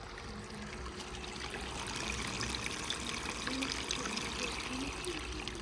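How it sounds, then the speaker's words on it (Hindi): Water pumped by a running motor pours steadily into a field channel, a continuous close gurgling rush with no breaks. "ये देखें कैसे जा रहा है मोटर वाला पानी"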